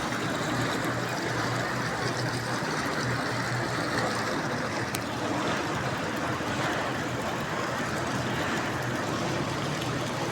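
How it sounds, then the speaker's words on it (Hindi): Natural spring water that runs year-round beside the Van Durga (Bani Devi) temple, a steady broadband rush of flowing water filling the scene at an even, moderately close level with no talk. "ये नेचुरल पानी है, 12 महीने चलता रहता है।"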